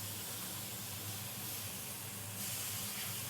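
Freshly flipped smash burger patties with scraps and onion rings sizzle on a hot griddle, giving off a continuous, fairly quiet steamy hiss that swells slightly near the end.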